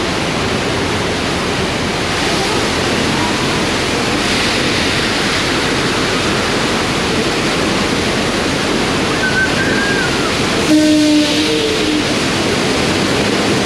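Water gushes in a loud, continuous rush during a splashing effect on the Universal Studios tour, with a brief tonal whistle near the end.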